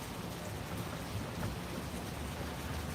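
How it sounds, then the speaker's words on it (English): Steady rain falls at a railroad trackside overpass in Dalton, a faint, even wash of hiss with no talking. "It's trying to rain in on us."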